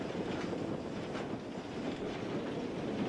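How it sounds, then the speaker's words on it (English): A coal-fired steam locomotive works hard on a climb, heard close as a continuous rushing, rumbling roar of the engine and rolling train, with wind buffeting the microphone. "The engine beats faster as it works harder, climbing, doing more work, burning more coal."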